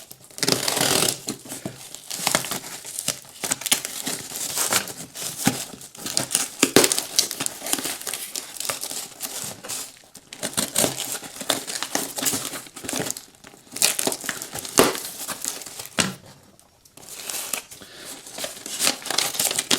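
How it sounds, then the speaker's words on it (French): A small parcel holding a secondhand iPod Touch is unwrapped by hand, with continuous close crinkling and crumpling of packaging and paper, irregular rustling bursts and short tearing sounds, no talking. "c'est parti de suite pour déballer ce petit colis."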